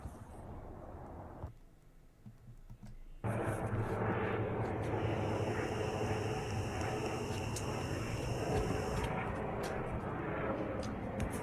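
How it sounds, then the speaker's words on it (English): Jet airplane passing over a house, a loud, steady roar that swells in abruptly after a quieter stretch and holds broad and constant, with a faint higher whine above it. "That's a jet now flying by my house, just for reference on what that actually looks like."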